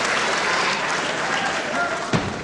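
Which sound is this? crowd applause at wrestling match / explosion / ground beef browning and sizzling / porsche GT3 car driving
crowd applause at wrestling match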